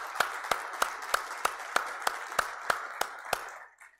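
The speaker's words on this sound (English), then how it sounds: "A nice round of applause" Slow, evenly spaced hand claps sound about three times a second at an energy conference, a steady rhythmic clapping that stops after a dozen beats.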